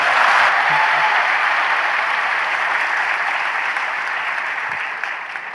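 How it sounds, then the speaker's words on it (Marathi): Dense, steady audience applause at a talk, loud and continuous from start to end and slowly tapering off, with no voices above it. "टाळ्या एकदा."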